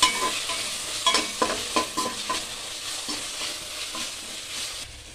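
Onions and a large tomato sauté in a pan for masala semiya upma, a continuous sizzle broken by repeated close stirring scrapes and clatters.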